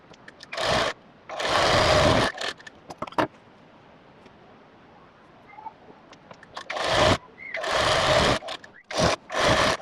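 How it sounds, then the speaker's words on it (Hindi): A sewing machine stitches panels of a bridal lehenga in several short bursts of fast, close mechanical whirring, separated by quiet pauses with faint handling noises. "मैंने सारी कलियों पर यहाँ पर सिलाई लगा दी है"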